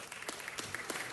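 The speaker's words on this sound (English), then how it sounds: "please no applause" Brief, scattered clapping from a small audience at a city council meeting, a few hands patting unevenly for about a second before fading under the room noise.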